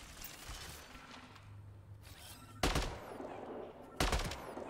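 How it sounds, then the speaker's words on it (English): Gunfire in the video game Mass Effect: Andromeda: two sharp, loud bursts of shots a little over a second apart, cutting through a low hum of game ambience. "I'm gonna start shooting this lad."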